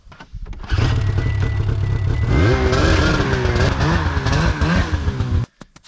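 A snowmobile engine revs hard outdoors in the snow, a loud, close, continuous roar with rising and falling pitch for about five seconds before cutting off abruptly.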